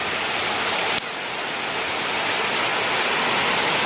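Steady, loud evening rain pours down without a break, a dense hiss that fills the whole clip during Sundanese home cooking.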